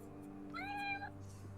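A person imitates a cat's meow into a microphone during a tabletop role-playing session, one drawn-out nasal meow close and clear over a steady low hum.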